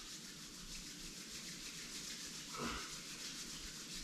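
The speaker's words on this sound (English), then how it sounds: "Rub your palms," Palms rubbed together in a soft, steady friction hiss lasting a few seconds, closing a yoga routine for golfers, with one slightly louder swipe near the end and no talking.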